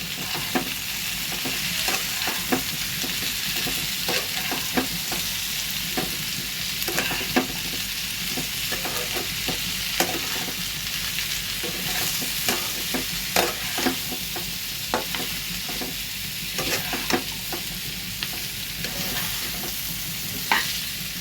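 Shrimp and mixed vegetable curry stir-fries in a pan, a steady loud sizzle broken by frequent scraping and clinking strokes from the stirring spoon, with no talking.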